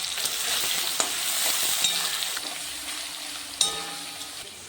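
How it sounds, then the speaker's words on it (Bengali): Salted potato pieces fry in hot oil in a cooking pan, giving a steady close sizzle broken by a few sharp clinks and scrapes of stirring, with no talking. "আলুটা ভাজা হয়ে গেলে তুলে দিলাম।"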